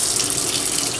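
Tepid tap water running steadily from a faucet into a sink for rinsing makeup brushes, a close, continuous hiss with no talk.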